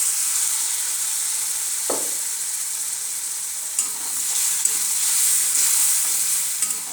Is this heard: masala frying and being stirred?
yes